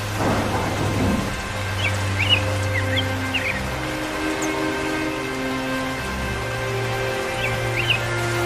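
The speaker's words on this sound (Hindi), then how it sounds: "देख रहा है कैसे बिजलियां कड़क रही है।" A heavy thunderstorm: dense, steady rain pours down while low rolls of thunder rumble through, with a few faint bird chirps over the downpour.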